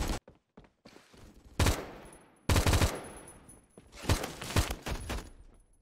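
Rapid bursts of gunfire from a Roblox shooter game come in several separate volleys, loud and close, with short silent gaps between them.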